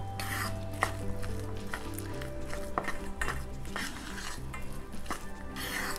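Thick urad flour batter for dangar is stirred vigorously, with rapid repeated utensil knocks and scrapes throughout over a continuous backing of tonal sound.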